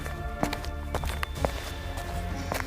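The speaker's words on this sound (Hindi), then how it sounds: "आधी रात को उसे किसी के कदमों की आहट सुनाई दी।" Footsteps as a horror-story sound effect set at midnight, a few separate soft steps spaced irregularly over a constant low droning background, fairly close and moderate in level.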